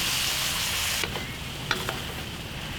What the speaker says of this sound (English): I just want to stir fry these for a minute or so until those vegetables are still nice and crispy